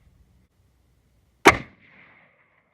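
A single loud 7mm Magnum rifle shot cracks out after near silence, a sharp blast followed by a short ringing echo that fades over about half a second.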